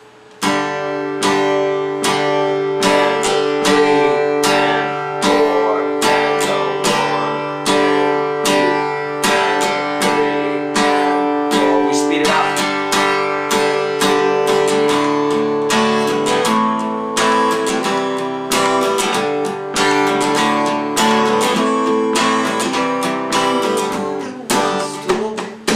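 Strummed chords on an acoustic guitar in a bouncy rhythm, played continuously and steadily, near and clear, with no talking.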